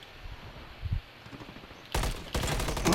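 Call of Duty gunfire in rapid automatic bursts, two dense sustained volleys in the second half after quieter scattered thumps, loud and close with no talk.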